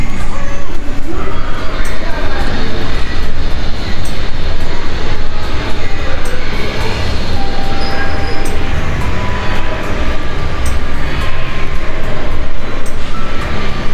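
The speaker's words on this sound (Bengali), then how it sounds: "কিডস জোনের পাশেই একটা ছোট্ট ট্রেন পেয়ে যাবেন" A small kids' ride train at an amusement park's kids zone, heard as a steady, loud rumbling roll of wheels and carriages with broad continuous noise throughout, voices faintly mixed in the background.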